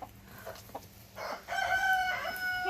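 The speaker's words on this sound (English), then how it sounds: "There are chickens sitting and not hatching anything." Chickens on a farm cluck softly and a rooster crows loudly and nearby, a drawn-out call that stands alone with no talking.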